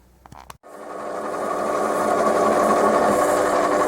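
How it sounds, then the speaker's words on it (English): A metal lathe spins up to turn a brass insert for repairing a broken gear on a model steam locomotive, starting after a few quick clicks and settling into a steady, close, high-pitched whir that continues alone. "Onto the lathe then."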